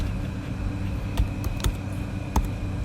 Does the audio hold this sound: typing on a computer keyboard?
yes